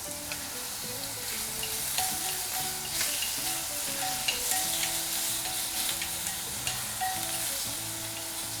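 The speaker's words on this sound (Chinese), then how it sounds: "我们把这个鲜的虾仁给它煎一煎" Fresh shrimp sizzle gently in a pan with a soft continuous crackle, while faint music plays quietly underneath.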